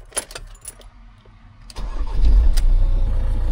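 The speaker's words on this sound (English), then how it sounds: "Now what I'm going to do is start the engine, and we're going to see this power up." After a few small clicks and a key-like rattle, a car engine cranks and catches at about 1.7 seconds, then settles into a loud, steady idle close by.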